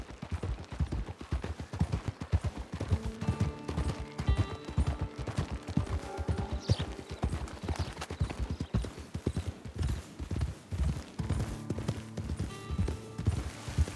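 Horse hooves clip-clopping steadily in the Western video game Red Dead Online, a close, loud, regular rhythm of hoofbeats with brief musical tones layered underneath, no talking.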